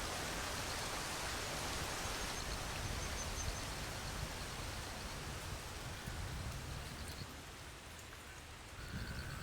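Steady, dense rain hiss falling on surfaces, continuous and even throughout, easing slightly near the end, with no voices.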